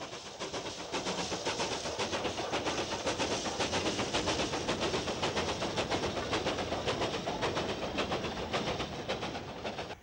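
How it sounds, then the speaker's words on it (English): A 4F steam locomotive, number 44558, runs tender first with a train of empties, its wheels beating out a rapid, regular clatter over the rail joints. The sound is loud and steady throughout, with no voices. "Another tender first locomotive, a 4F number 44558, but at least they've rigged some shelter."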